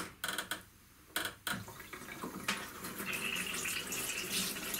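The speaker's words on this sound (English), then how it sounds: "just rinse it under warm water" A Dyson V7 cordless vacuum filter is rinsed under a running tap of warm water. A few sharp knocks come first, then a steady, close rushing stream of water runs on without a break.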